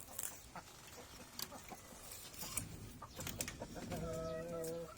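Rhode Island breeder chickens, two hens and a rooster, clucking softly amid faint farmyard background, with a clearer drawn-out cluck toward the end. Quiet and at moderate distance.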